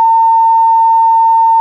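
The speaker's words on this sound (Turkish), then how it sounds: "Artık ne söylüyorsa duymamamız gereken bir şey orada biplenmiş" A censorship bleep sound effect made in HitFilm Express: one pure, steady electronic beep, loud and unbroken, held for nearly two seconds before cutting off cleanly.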